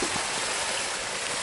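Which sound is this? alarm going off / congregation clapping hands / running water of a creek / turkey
running water of a creek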